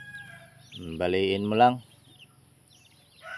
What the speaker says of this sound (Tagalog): dito naman yung alaga nating manok